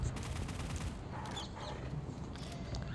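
Gunfire in a shooter video game plays as rapid, faint bursts of shots under a busy background of game sound.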